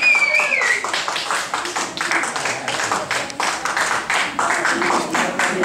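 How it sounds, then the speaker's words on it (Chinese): An audience claps to welcome a belly dancer on stage, with a steady patter of many hands lasting throughout and voices mixed in. "我们欢迎我们的肚皮舞小姐出场，小甜甜，掌声鼓励"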